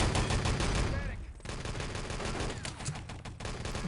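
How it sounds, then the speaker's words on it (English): Rifle and automatic gunfire rattles in the video game Enemy Territory during a 6on6 match, dense bursts of rapid shots with brief gaps, fairly loud and continuous throughout. "he's going to shoot his rifle, isn't he?"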